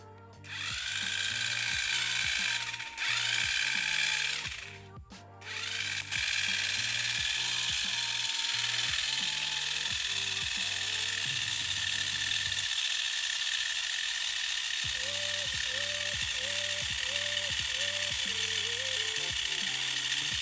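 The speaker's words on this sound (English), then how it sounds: "how about we listen to the sound from this Mini 4WD? Okay, friend. I'll try turning it on." A Tamiya Mini 4WD toy car on an MS chassis runs its small electric motor, making a loud, close, high whining buzz with rhythmic ratcheting gear clicks that stop briefly and then resume.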